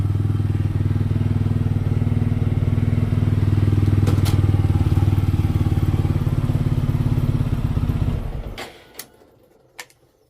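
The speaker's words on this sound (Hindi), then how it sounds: "जबकि बाइक काफ़ी देर से चल रही है" A motorcycle engine that has been running a long time and is very hot, idling in a loud, steady, close throb for about eight seconds before cutting off, followed by a couple of sharp clicks and knocks in near silence.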